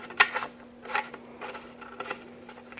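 Small parts on a Celestron Powerseeker 70az telescope are unscrewed, producing faint, quiet clicks and ratcheting ticks in short, scattered bursts over a low background hum.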